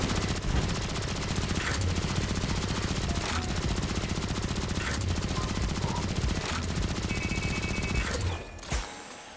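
Rapid, continuous automatic fire from a heat weapon in the Destiny 2 video game, loud and steady for several seconds before stopping abruptly.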